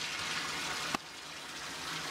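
Warm water running from a shower into a baby bathtub, a steady broadband rushing gush, moderately quiet and continuous, with a brief knock near the middle and no talk.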